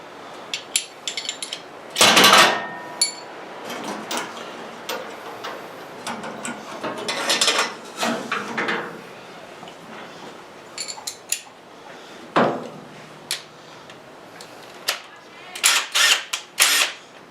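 A 1/2-inch wrench from a Craftsman tool set rattles and clinks during a radiator replacement on a Pontiac Firebird or Chevy Camaro, giving close, irregular metallic knocks and scrapes with quieter gaps between them.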